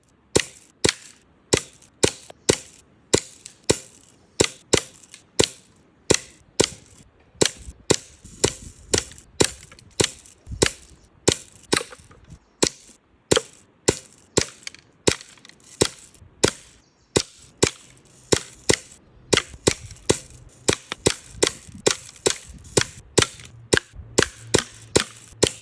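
Pellet gun shots hitting toy figures inside a small model house, heard as a long, irregular series of sharp, close cracks and pops with no talking.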